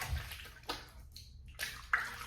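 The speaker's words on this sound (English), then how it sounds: "I'm gonna have to rinse my hands." Tap water runs steadily as hands are rinsed of shaving balm at a bathroom sink, a faint, close splashing flow with a few brief surges and no talking.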